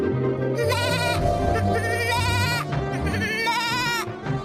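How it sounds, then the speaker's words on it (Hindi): A goat bleats repeatedly, shivering from cold inside a poor family's grass hut, in a series of loud, wavering cries with short gaps between them. "ये बकरी की आवाज कैसी?"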